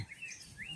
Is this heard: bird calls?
yes